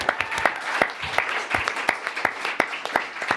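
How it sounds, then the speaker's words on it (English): A crowd applauds steadily, with sharp individual claps scattered through a continuous wash of clapping. "A big, wild round of applause for Ash Barty"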